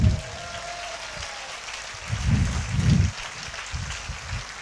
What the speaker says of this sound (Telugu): అలాగే చేతులు పైకెత్తి చప్పట్లు కొట్టండి